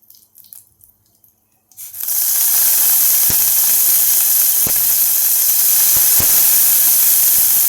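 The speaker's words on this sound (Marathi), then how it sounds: "आता हे जे मटर आहे हे मी यात घालून घेते" Green peas tipped into a hot, oiled pan set off a sudden loud, steady hiss of steam and sizzle that carries on without a break. A few sharp clicks and taps sound over it, with no one speaking.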